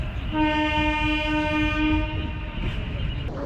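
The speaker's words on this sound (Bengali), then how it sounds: "বেশ কিছুক্ষণ চলার পরে স্টেশনে ট্রেন ঢুকলো" A train horn sounds a long steady blast for about two seconds over a loud rumbling of rolling carriages as the train enters a station at night on the way to Tatanagar Junction, fading into continued engine and wheel noise.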